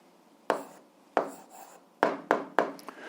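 Pen or chalk writing down a short answer for an 8th-grade algebra exercise, a handful of quick scratchy strokes in separate bursts, close and fairly quiet.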